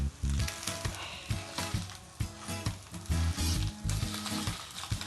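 Scrambled egg fries in a smoking-hot pan with steady crackling sizzle and a rhythmic scrape and stir of a utensil, close and loud throughout.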